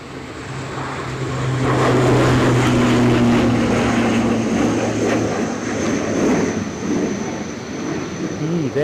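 A business jet takes off into a headwind at Edinburgh Airport in stormy, gusty weather, its engines swelling into a sustained roar that holds and then slowly fades as it climbs away.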